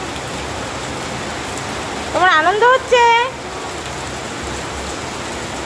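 Steady rain pours down as a constant, loud wash of hiss from start to finish, while a voice speaks briefly over it near the middle.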